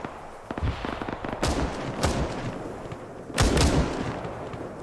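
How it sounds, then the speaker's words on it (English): Gunshots ring out in an OFCRA multiplayer match set in Indochina, a few sharp cracks and short bursts at mid distance over a rumbling battlefield background. "Shots were a miss right there."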